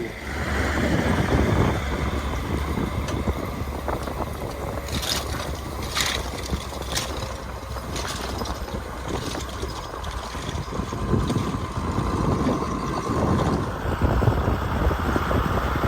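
A T-170 tractor fitted with a DAF engine drives along a road, its engine a steady, continuous drone with wind buffeting the microphone throughout.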